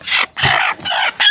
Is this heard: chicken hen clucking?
yes